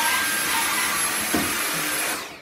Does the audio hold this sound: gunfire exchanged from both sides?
no